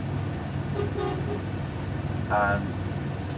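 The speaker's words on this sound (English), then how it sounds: "Just say someone's out here honking" A vehicle horn toots outside twice, once briefly and then a longer blast, faint and distant over low, steady background rumble with some voice underneath.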